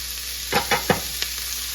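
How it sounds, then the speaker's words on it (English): Onions frying in olive oil get stirred in a pan, with a faint steady sizzle under three quick scraping strokes and a couple of softer taps. "our onions are getting translucent, so I'm going to add a couple of tablespoons of olive oil"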